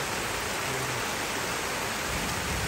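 Steady rain pours down, a dense continuous hiss with no voices, even and unbroken throughout.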